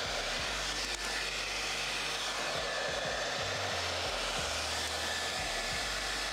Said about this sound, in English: the wattage is how fast the air comes out of the hair dryer